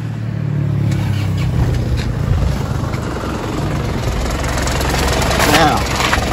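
A Ford Sportivo car engine cranks and catches, then settles into a loud, steady, rough idle close by.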